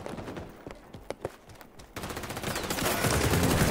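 Rapid gunfire in the XDefiant shooter game, scattered shots at first then building into dense, loud sustained automatic fire over a few seconds.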